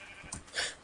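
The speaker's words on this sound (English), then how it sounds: "Oh, sheep!" A sheep bleats once in the Minecraft video game, a short, fairly quiet blocky-world animal call heard alone.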